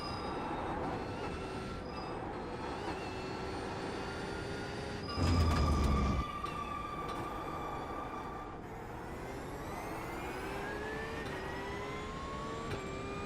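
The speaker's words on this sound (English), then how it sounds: "I also enjoy the Merc engine sound" GT3 race car in a racing video game at Magny-Cours, engine droning and shifting pitch as it accelerates and brakes through corners, with a brief heavy thump midway; no talking.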